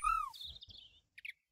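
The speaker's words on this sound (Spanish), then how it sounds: "Un pajarito." Bird chirps from a Minecraft mod game world: a loud descending whistle-like chirp, then a warbling trill, followed by two short faint tweets after a brief pause.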